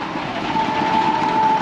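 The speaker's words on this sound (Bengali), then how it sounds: "গাইস দেখতে পাচ্ছেন ট্রেন" A train rumbles past nearby with a steady roar and a sustained tonal whine rising over the rolling noise.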